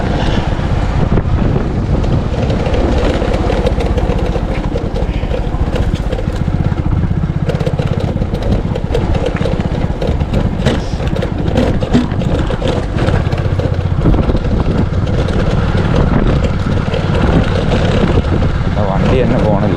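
Strong wind roars against a vehicle driving through a village battered by mountain winds, a loud, continuous broadband rush and buffeting with engine rumble underneath for the whole stretch.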